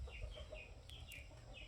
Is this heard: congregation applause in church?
no